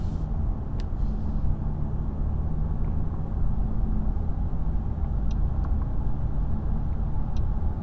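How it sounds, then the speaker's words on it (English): A 2022 Mercedes CLS 450 AMG coupe cruises on a highway with a steady low engine and road rumble from inside the cabin, with a few faint clicks over the continuous drone. "So now we are entering the highway and let's see how the car handles."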